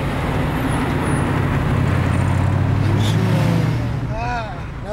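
Saleen Ford Mustang engine rumbling loudly up close, a deep steady drone that swells in the middle and then fades, with a brief higher tone near the end.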